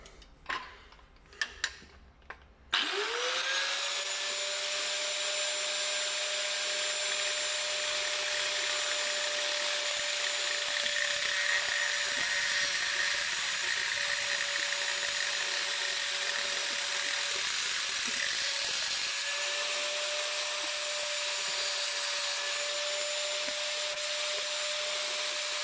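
A power tool bites into a bolt to cut it down, starting after a few knocks with a sudden loud, steady high-pitched whine that holds for over twenty seconds with a grinding, rasping edge.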